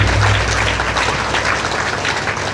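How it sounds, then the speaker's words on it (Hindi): Devotional gathering at a Devi Bhagwat katha, the assembled listeners clapping in welcome; a continuous, even wash of applause from a crowd, moderately loud, with a low hum underneath. "बिल्कुल तालियों से स्वागत करिए।"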